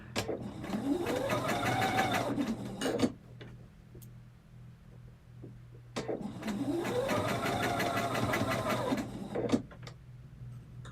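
A sewing machine stitches in two sustained runs of rapid, close mechanical ticking that rise and fall in speed, separated by a quiet pause with faint handling clicks.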